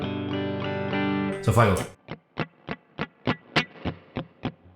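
Electric guitar through a Lovepedal Reverb Deluxe spring reverb pedal: a sustained ringing chord, then a burst of noisy strumming followed by a string of evenly spaced muted plucks, with someone briefly speaking.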